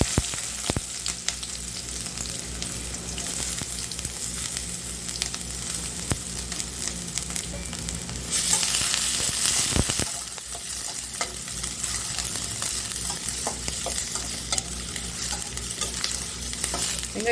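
Onions sizzle and crackle in hot oil for crab gravy while a spoon stirs and scrapes the pan, with a louder hiss partway through.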